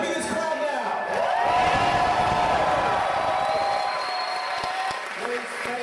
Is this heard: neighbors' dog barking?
no